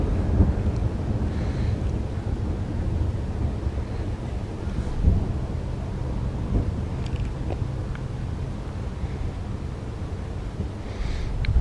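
Steady wind roars and buffets across the whole stretch during autumn fishing, a continuous low rumble with gusty surges and no voices.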